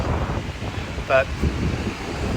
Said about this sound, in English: Sorry if the wind, if it's making it hard to hear